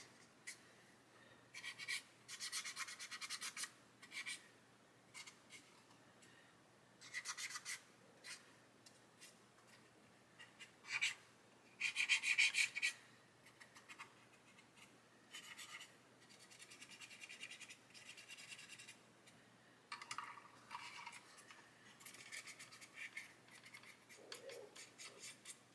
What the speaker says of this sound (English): just wiping it away, rubbing it away